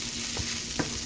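Food frying in a pan gives a steady high sizzle close by, broken by two short scrapes of a utensil as it gets a quick stir, with no talking.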